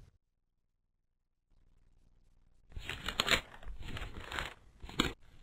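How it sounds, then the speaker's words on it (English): Book pages turn after a near-silent start, giving a few soft, close rustles and crinkles in quick succession. "The turning pages make a soft sound."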